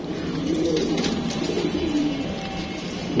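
Blue-eyed Jabra and Muslodom pigeons coo in low, rolling phrases close by, loud and continuous against a constant hiss, with no talking.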